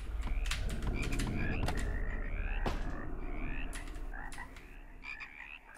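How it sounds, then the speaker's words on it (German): Frogs croak in the video game House, a dense, loud chorus of rapid ribbits layered with higher chirping calls that runs throughout without a break. "Der Sound. Die Frösche."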